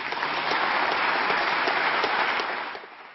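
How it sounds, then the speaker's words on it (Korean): Lawmakers in a parliamentary chamber clap through a speech, a steady, dense round of applause that holds evenly before tapering off near the end. "정치 현안에 대한 발언이 나올 때는 한 문장 한 문장마다 박수를 보냈습니다"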